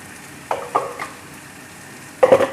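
Two chopped fresh tomatoes go into a hot pan for Arab-style macaroni with meat, giving several short, close sizzling and stirring bursts, then a louder crackling burst near the end, over quiet background.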